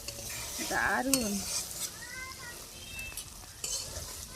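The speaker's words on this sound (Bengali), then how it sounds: "এখন আমি একটু নেড়ে দেব।" Pointed gourd being stirred in a pan after its lid is lifted: a soft continuous sizzle sits under scraping spatula strokes and a few clinks, close by, while a person briefly speaks.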